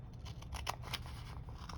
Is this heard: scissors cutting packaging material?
yes